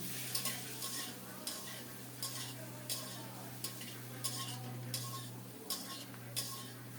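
Tomato, green chillies, turmeric and chili powder sauté in a pan for a rui fish curry with cauliflower, a soft steady sizzle under a low hum, with evenly spaced spatula strokes roughly every second.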